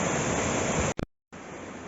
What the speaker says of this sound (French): les mini cascades et tout, la rivière